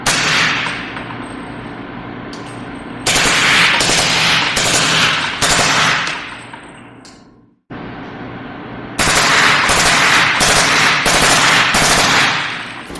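Subsonic 300 AAC Blackout rifle rounds from a 30-round magazine fire in rapid sharp volleys, loud and close, two long strings of shots separated by a brief pause.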